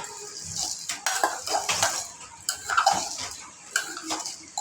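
Bhel being mixed in a bowl after a little water is added, with repeated clinks and scrapes of a spoon against the bowl in uneven bursts, close and moderately loud, no talking.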